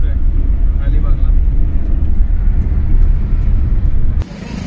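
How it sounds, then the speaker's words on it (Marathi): Low, steady engine and road rumble inside a car on a drive toward Alibag, continuous and fairly loud for several seconds before dropping suddenly near the end. "आता रोहनबाईला गाडी दिली आहे."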